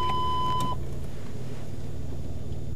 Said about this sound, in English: Once the obstruction is only 35 centimetres away, the beeps become constant, indicating the need to stop.